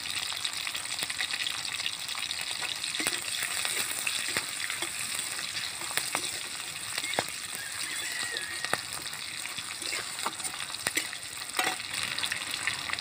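Whole cinnamon, cardamom and cumin sizzle in hot oil with a dense, steady frying hiss and scattered crisp pops, close up and continuous for several seconds, with occasional stirring.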